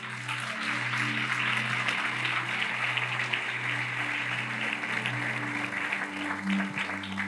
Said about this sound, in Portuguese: Se é para aplaudir, aplaude, irmão.